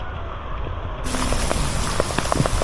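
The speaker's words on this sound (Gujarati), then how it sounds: "ચાલુ વરસાદમાં ઉપર આવ્યો છું અગાસી ઉપર" Heavy downpour on a rooftop terrace in Mendarda, Gujarat, a dense steady hiss that grows louder and fuller partway through, with scattered close drips and splashes standing out.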